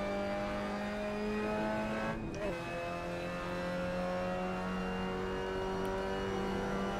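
Mazda MX-5 Cup race car engine in Assetto Corsa, droning steadily at high revs through a sweeping 180-degree corner, with a brief gearshift dip partway through and a continuous loud tone.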